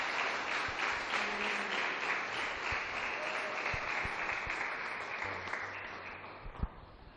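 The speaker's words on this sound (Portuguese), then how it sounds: "Aplauda ao Senhor." Worshippers in a church service applaud, a continuous wash of clapping that gradually thins and fades, with a few louder knocks near the end.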